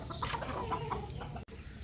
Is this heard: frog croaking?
no